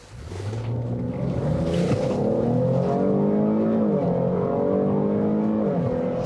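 Engine of a 2020 Cadillac XT6 three-row SUV accelerating hard, a loud close-up rising growl with clear stepped pitch climbs and quick dips as the transmission shifts, sustained for several seconds with no talking.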